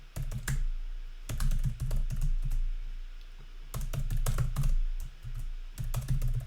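Fingers type on a computer keyboard in bursts of quick, close key clicks separated by brief pauses, over a low background hum, with no talking.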